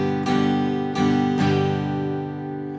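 An acoustic guitar is strummed in a down, down, up, down pattern, three bright chord strokes ringing close and full, the last chord sustaining and slowly fading.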